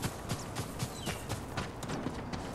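Horse hooves clip-clop steadily in Ghost of Tsushima, a brisk repeated rhythm of moderate loudness over continuous game ambience and music, with no speech.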